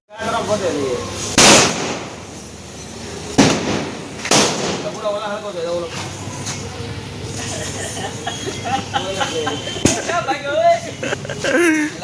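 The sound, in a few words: firecracker exploding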